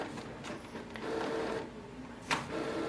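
A Canon Pixma G6020 inkjet printer running an ink flush cleaning cycle, faint steady mechanical whirring with soft clicks and one brief louder clack, heard close and alone.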